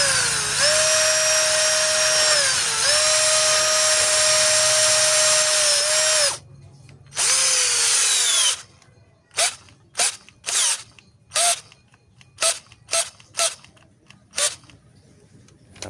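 A 25 volt cordless drill with a Kepu battery whines loudly and continuously for several seconds as it drives into wood, stops, restarts briefly, then gives a quick series of short trigger bursts, close up with no talking.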